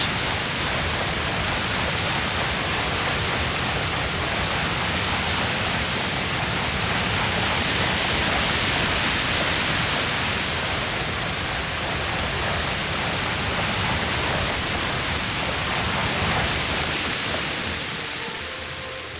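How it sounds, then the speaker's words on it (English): Heavy rain falls across a map in Totally Accurate Battle Simulator's map creator, a dense, constant hiss that swells slightly and fades a little at the end. "just make it rain everywhere. Make it rain!"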